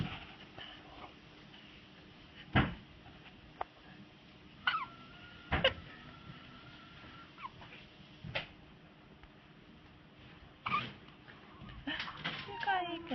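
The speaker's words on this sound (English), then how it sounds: "You got hiccups." A child hiccuping at home, several sharp, isolated hiccups scattered at irregular intervals, fairly close and set against a quiet room with faint background murmur.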